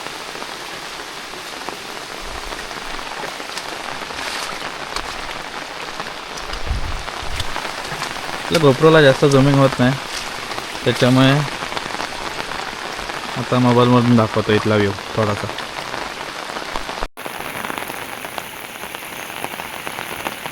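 Heavy monsoon rain pours steadily in a Konkan village, a dense constant hiss of drops on surfaces, with someone talking over it at intervals.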